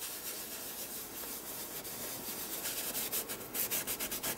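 Media rubbed by hand onto a mixed media art journal page, a continuous close papery scrubbing that turns into quicker rhythmic back-and-forth strokes near the end, with no voice over it.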